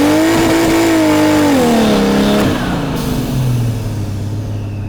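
V12 engine in a Toyota Hilux pickup fitted with semi-slick rear tyres, loud and close, its pitch swooping through a rev before settling into a lower steady roar.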